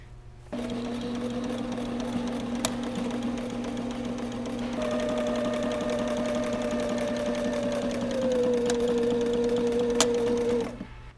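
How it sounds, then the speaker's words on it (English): A sewing machine stitches two car seat cover fabric pieces together, running in a steady whirring hum for about ten seconds, its pitch shifting slightly partway through, with a couple of faint clicks. "I wanted to sew the two pieces together before folding over the bungee cord tunnel."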